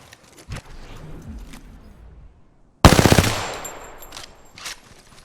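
Video game gunfire in Apex Legends: a sudden loud burst of rapid automatic shots that decays into a ringing tail, with scattered quieter shots before and after.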